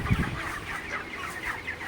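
Many 29-day-old broiler chickens clucking and murmuring together in a shed, a steady low chorus with a louder cluck near the start.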